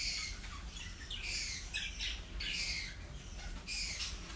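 Young English budgerigar chicks squawk in a breeder's aviary, harsh repeated calls coming in overlapping bursts at a steady, fairly close level over a constant low hum.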